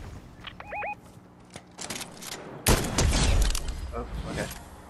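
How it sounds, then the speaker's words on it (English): DMR rifle gunshots in a multiplayer shooter: a few scattered sharp cracks early, then a louder cluster of shots and impacts midway, with game sounds and a short tonal chirp around them. "I hit him twice with the DMR"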